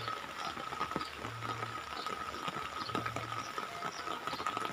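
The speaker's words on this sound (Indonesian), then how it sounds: "Hujannya semakin deras" Heavy rain pours down over a village in Pasundan, West Java, a dense, steady hiss of falling water with scattered drips and patters, continuous and close throughout with no talking.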